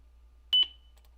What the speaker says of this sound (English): that was a loud beep